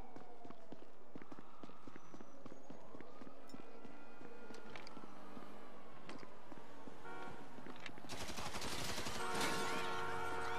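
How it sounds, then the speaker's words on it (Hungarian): Rapid gunfire bursts in a first-person shooting game, GTA V on PC, crackle loudly through a busy mix of game noise and engine sounds, growing into dense overlapping shots near the end. "és folytatódhat a lövöldözés"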